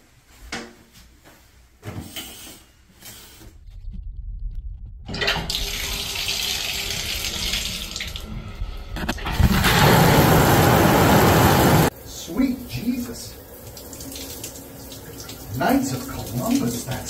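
Hotel shower at The Amp in Tampa turned on, water gushing in loud steady bursts with clicks and handle sounds between, close up, with someone talking in places.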